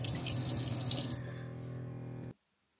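Hot water runs from a tap into a sink in a steady, full gush, then cuts off abruptly into near silence. No one speaks.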